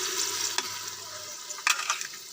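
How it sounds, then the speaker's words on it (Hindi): Onion and tomato masala paste fries in a pan for a potato sabzi, with a soft continuous sizzle broken by a few light stirring scrapes. "ये हमारा मसाला भुन रहा है।"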